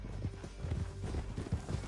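Horse hooves clip-clop at a gallop in Red Dead Redemption II, a steady run of close, rhythmic thuds with no voices over them.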